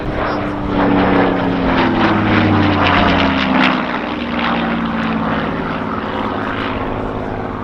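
A propeller aircraft flies past at the RAF Cosford Airshow 2019, a loud, steady engine drone whose pitch slowly shifts as it passes, heard alone without voices for several seconds.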